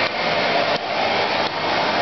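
An old blower cooling a 5,000 watt xenon short arc lamp running at 175 amps roars with a loud, steady broadband rush, dipping briefly twice as if the airflow shifts.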